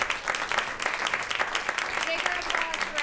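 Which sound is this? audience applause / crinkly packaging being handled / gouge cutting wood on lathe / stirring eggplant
audience applause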